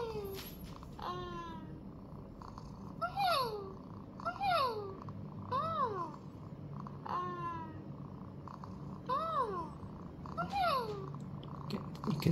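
In the My Talking Angela video game, a cartoon cat purrs while being petted, with a soft purr running under a string of repeated rising-and-falling chirpy electronic tones that come every second or so.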